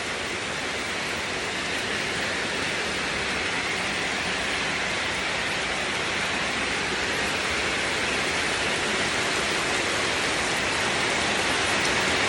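A downpour of heavy rain falls on a farm field, producing a loud, unbroken hiss and roar that holds steady and near for the whole stretch, with no voices.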